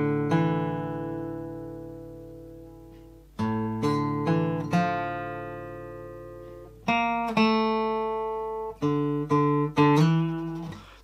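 Guitar picking the main melody of a song from The Last of Us Part II, a long opening ringing chord followed by phrases of plucked single notes and chords that decay between attacks, close and solo.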